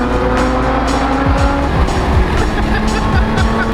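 A Lotus Emira fitted with a titanium exhaust drives hard, its engine droning loudly while repeated rising and falling pitch sweeps come through gear changes and revs, with tire noise and a voice faintly underneath.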